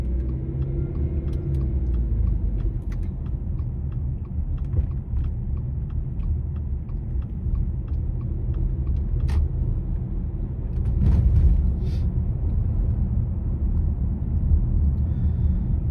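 Car engine and road rumble from inside a vehicle moving through Black Friday traffic on a parkway and mall parking lot, steady low drone with faint ticking and a brief swell near the end, no talk.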